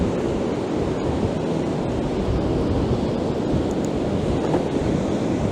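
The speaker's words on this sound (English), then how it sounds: "give you a bit more of that rough sea" Rough sea surf with strong wind on a coastal outing, a continuous dense roar of breaking waves and gusting wind buffeting the microphone, loud and steady throughout with no voices.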